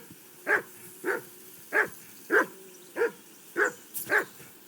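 Steady, evenly paced barking from Mutt, a dog in the video game Kingdom Come Deliverance 2: seven clear, fairly close woofs roughly every half second, with no voices present.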